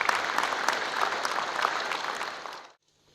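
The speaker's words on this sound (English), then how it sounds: "please let me ask you to give her a round of applause and to welcome her to the stage" A round of applause welcomes a speaker to the stage at a public sector audit awards ceremony, dense steady clapping from a crowd that fades and stops abruptly near the end.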